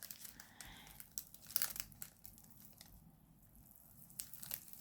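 A sticky diamond painting sheet crinkles and tears in short, close bursts as it is peeled slowly, with quiet pauses between the pulls.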